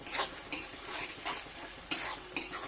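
Tomatoes and green chillies fry in a pan for chicken curry, a soft steady sizzle broken by several quick spatula stirring scrapes at irregular intervals, close and fairly quiet.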